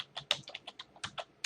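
Fingers type quickly on a computer keyboard, a close run of light, uneven clicking keystrokes with no speech.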